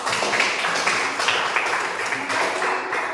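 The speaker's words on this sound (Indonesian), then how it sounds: "kita beri aplaus untuk kelompok" A classroom of students applauds a discussion group, a dense, steady patter of many hands clapping together at moderate volume, sustained evenly with no voices standing out.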